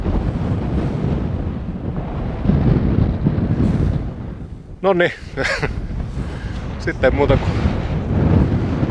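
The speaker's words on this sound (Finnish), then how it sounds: "Ja tuulee." Strong wind on an open mountain summit in the Tuntsa wilderness roars and buffets the microphone in steady, heavy gusts, with someone briefly speaking over it midway.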